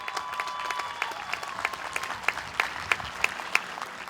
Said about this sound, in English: Let's give Aiden a round of applause.